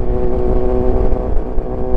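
A motorcycle engine revs steadily and loudly for the full two seconds, a dense close-up drone with a slightly fluttering tone and no pause, heard while riding.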